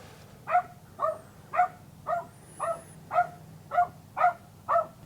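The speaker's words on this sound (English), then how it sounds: "you bring your dog camping and then you leave your dog in the camper to let it sit and bark the whole time" A dog left inside a camper at a campground barks in a steady, evenly spaced series of about nine muffled barks. The sound is moderately close, with nothing else heard.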